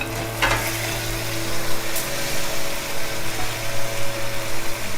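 Chicken pieces frying in a pan for Spanish garlic chicken, pollo al ajillo, a steady close sizzle with a faint stirring scrape early on, continuous and fairly loud with no talking.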